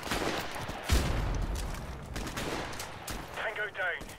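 Gunfire in the video game Call of Duty 4: Modern Warfare Remastered, a loud shot followed by scattered rapid bursts mixed with game noise and voices talking over it.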